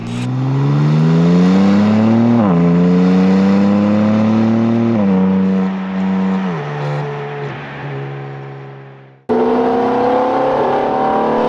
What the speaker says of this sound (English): the 430 was peerless, doing a pretty good job of keeping up with the 720S and sounding incredible with way more pops and bangs than usual